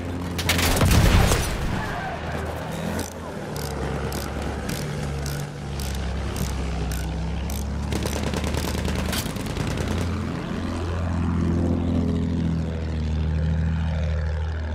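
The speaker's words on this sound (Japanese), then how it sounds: "飛行機だ上にいるぞ" A propeller airplane drones overhead, a loud, sustained engine hum that rises and falls, with sharp bangs like gunfire bursting in near the start.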